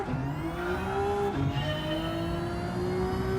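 A racing car engine in Gran Turismo 7 drones steadily and loud, with a brief dip in pitch as it downshifts partway through, then climbs again in a smooth, continuous whine.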